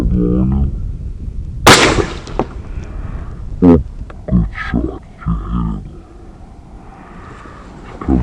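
A single loud, sharp rifle shot cracks out while hunting a golden wildebeest on an African safari, followed by hushed voices and some rustling movement nearby.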